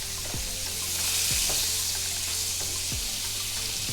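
A stick of butter melts in a hot pan, giving a steady bright sizzle and foamy bubbling with a few soft scraping strokes at intervals.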